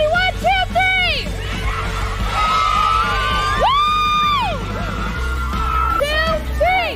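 Excited crowd of fans at a FanX convention screaming and whooping together, a dense, loud mass of high yells and cheers with overlapping voices and babble throughout.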